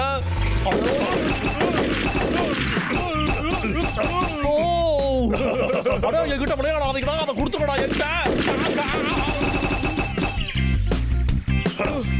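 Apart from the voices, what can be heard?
cartoon gunfire from Boonie Bears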